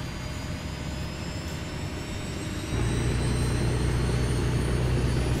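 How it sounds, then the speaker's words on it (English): Aircraft engine starting on a Kodiak 100 in Microsoft Flight Simulator 2020, a steady whirring hum that steps up suddenly midway into a louder, fuller drone with rising whine tones, no talking. "ignition on, and get that starter pumping"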